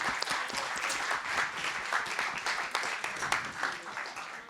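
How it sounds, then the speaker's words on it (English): An audience applauds at an annual conference, steady dense clapping filling the room for several seconds without pause, with faint murmuring beneath. "A round of applause."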